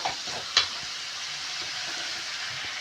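Chicken varuval sizzling and frying in a pan as it is stirred, a steady crackling hiss with a sharp scrape of the spoon near the start, close and alone with no voices.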